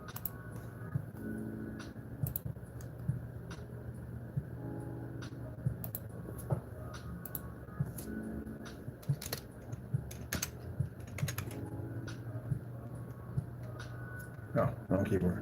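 Someone types on a computer keyboard with scattered clicks and short bursts of keystrokes over a low steady hum, while people talk intermittently.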